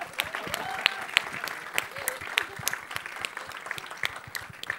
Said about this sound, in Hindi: तो तालियां जोरदार बन जाए ना